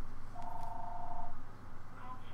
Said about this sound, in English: the phone rings like it does in every single YouTube video I ever do